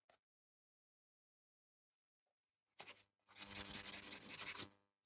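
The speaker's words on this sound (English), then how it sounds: "you take a buffer and just buff the entire nail" A coarse 100 grit buffer rubs across a fingernail in a short opening stroke, then a steady run of quick, close, scratchy strokes that swell and fade, with no voices.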